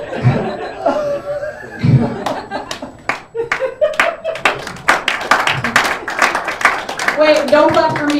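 At a comedy night, the audience claps in scattered, uneven bursts mixed with laughter and chuckles, and a voice talks over the crowd throughout.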